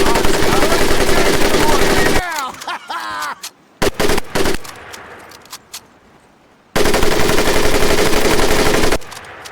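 Bursts of automatic weapon fire on a training range in Medal of Honor Pacific Assault, loud sustained volleys at the start and end with a quieter stretch of brief shots and a voice between.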